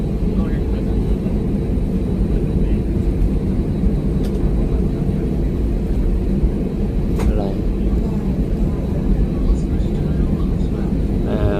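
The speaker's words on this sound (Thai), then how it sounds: "เครื่องบินเบียดเจ็ต" An airplane passing near the Da Nang International terminal at dusk, producing a loud, steady low jet rumble that fills the whole stretch, with faint voices underneath.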